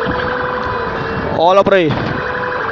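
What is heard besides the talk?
fire engine siren arriving at a fire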